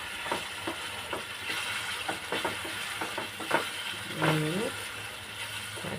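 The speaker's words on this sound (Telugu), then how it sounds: "ఆనియన్స్ లైట్ గోల్డెన్ బ్రౌన్ వచ్చే వరకు వేయించుకోవాలి." Onions frying in oil until light golden brown for a spicy chicken curry: a steady sizzle broken by scraping clinks of stirring, fairly close and moderately loud, with no talking.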